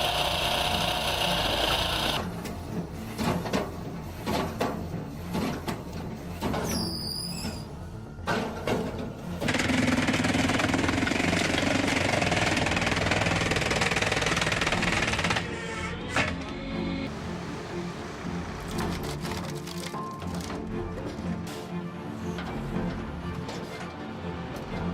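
A VSP 6060 heavy forestry machine at work in a game, its engine and mechanism droning and grinding steadily, shifting in intensity with abrupt changes in texture along the way.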